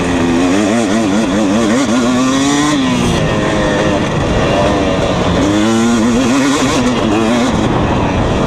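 A 2020 KTM 250 SX dirt bike engine revs hard while being ridden on a dry, dusty track, loud and close throughout, its pitch rising and falling with throttle changes and shifts.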